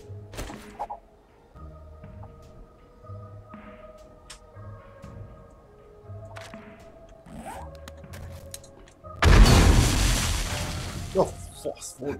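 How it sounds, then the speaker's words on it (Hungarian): A huge explosion goes off in the survival video game 7 Days to Die, a loud broadband boom erupting partway through and rumbling on for a few seconds after quieter in-game ambience and small clicks. "Mi volt ez az atomnagy robbanás?"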